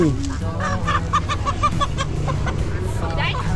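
Chickens cluck and squawk at a busy morning market in Xepon, Laos, loud and close, with a rapid run of calls amid crowd noise and people talking nearby.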